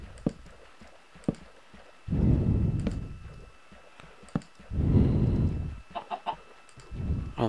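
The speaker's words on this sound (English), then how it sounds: "I'll move you, stupid chicken." Minecraft chickens cluck in short bursts, a few close, fairly loud rounds of clucking separated by brief quiet gaps and clicky sounds, with no talking.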